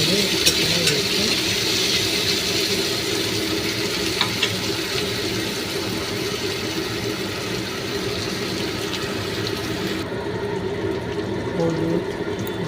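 Green chilli, tomato and chopped ginger frying in a pan, a loud dense hiss of sizzling oil held steady throughout with faint occasional stirring knocks.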